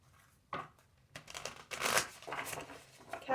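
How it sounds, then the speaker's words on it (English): Tarot cards are being shuffled by hand in a few quick, soft riffling bursts with light crinkling, close and quiet. "Do 2 more shuffles."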